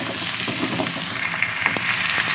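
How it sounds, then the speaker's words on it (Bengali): Cut potatoes frying in hot oil with already-softened onions in a pan, a steady close sizzle broken by light scraping stirs of a spoon against the pan throughout. "আলুটা আমি নেড়ে চেড়ে ভালো মতো মিশিয়ে নিচ্ছি।"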